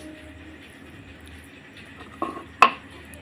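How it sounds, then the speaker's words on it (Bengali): A karai wok is set down on a kitchen stove with a short metallic clank followed by a sharper ringing knock, both close and clear over a quiet room hum. "এখানে আমি কড়াটা বসিয়ে দিয়েছি"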